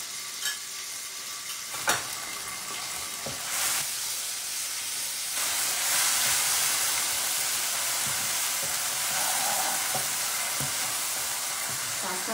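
A browned onion goes into a hot pan and fries with a loud, steady sizzle and hiss, and the clatter of stirring rises and falls throughout.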